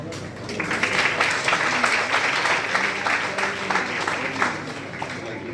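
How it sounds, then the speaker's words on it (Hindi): Audience at a college inspirational speakers event claps steadily, a dense sustained round of applause filling the hall from start to finish, moderately loud, with faint voices underneath. "आपकी तालियों की गूंज इन सभी को प्रोत्साहित कर रही है"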